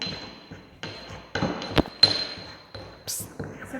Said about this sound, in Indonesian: Kita ambil beberapa kelopak bunga, kemudian kita haluskan.